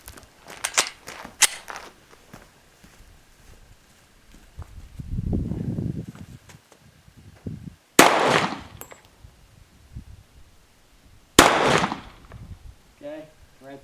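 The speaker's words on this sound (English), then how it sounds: "I'm shooting one-handed Glock 36" A Glock 36 pistol fired one-handed at a range, two sharp loud reports spaced a few seconds apart among scattered clicks and handling noise, with a low rumble between them.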